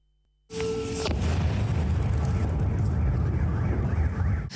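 After a moment of near silence, a sudden powerful explosion from a terrorist attack in Kryvyi Rih, Ukraine, erupts into a loud, sustained rumbling roar that keeps going.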